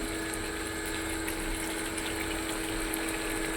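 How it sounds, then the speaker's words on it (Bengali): Water pours steadily into a pan of potol dorma, a stuffed pointed gourd curry, making a continuous even hiss from start to finish with no talking. "সামান্য একটু জল দেবো।"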